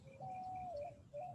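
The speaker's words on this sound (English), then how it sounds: "You hear the birds singing in the trees," A bird coos softly in the trees, one drawn-out note followed by a shorter one, faint and alone in a quiet setting.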